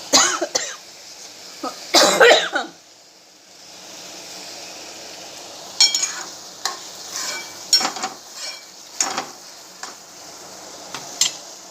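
Tomato, onion and cashew gravy cooking in a pan: bursts of stirring and scraping with gentle sizzling between them, plus a brief throat-clearing cough.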